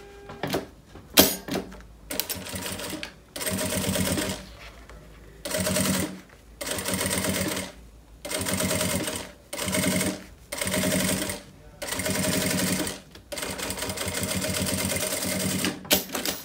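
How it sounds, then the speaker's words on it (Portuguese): A sewing machine stitches a zipper seam on a fabric pouch in repeated bursts of fast, steady whirring, each run a second or two long and separated by short pauses, close and clear with no talk. "Vamos passar agora a costura, ó, deixa bem esticadinho."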